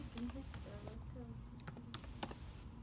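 Scattered keystrokes on a computer keyboard, a handful of light, sharp clicks at irregular intervals, close and quiet, with faint talk underneath.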